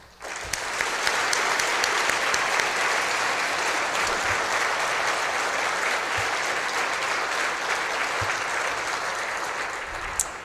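Sustained, dense applause from a luncheon audience honoring peace officers and firefighters fills the room, steady and fairly loud throughout with a few sharper claps poking out.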